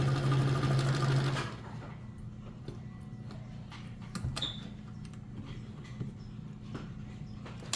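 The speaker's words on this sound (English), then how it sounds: "I'll make it a little bit narrower of a zigzag stitch." Emdeko sewing machine running a narrow zigzag stitch, a loud steady mechanical whir for about a second, then it stops, leaving quiet ticks and small clicks of handling.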